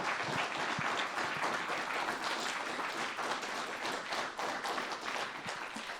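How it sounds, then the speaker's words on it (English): Applause from an audience for a tech crew at a gaming charity broadcast finale, a fairly quiet but steady patter of many hands clapping throughout, with a few sharper individual claps standing out. "Let's have a round of applause for our tech crew."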